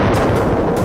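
A single rifle shot fired at a wild boar on a California farm, heard as one sustained loud boom that rolls on for under a second with a broad, rumbling echo tail.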